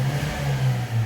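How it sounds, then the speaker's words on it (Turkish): A car engine with a valve fault, prone to stalling and misfiring, revs up briefly, its low drone swelling and dipping over about a second, close by. "Bakın gaz veriyor."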